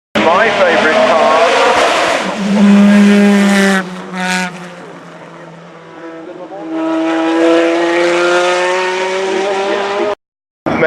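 A race car at the Goodwood Festival of Speed drives past loudly, its engine droning and shifting in pitch with a brief dip in volume midway before roaring on again, then cutting off abruptly.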